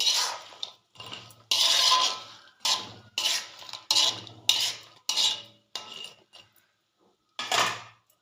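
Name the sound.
chicken pieces added to the pan for chicken pickle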